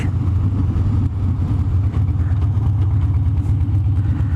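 A motorcycle fitted with an S&S Teardrop intake air cleaner rumbles loudly and steadily while being ridden, a deep, continuous engine drone heard close up with no speech over it.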